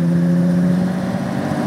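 A Jaguar 3.8-litre engine in a 1980 Kougar Sport roars at high revs, loud and close, a steady engine drone with a strong low hum and no one talking.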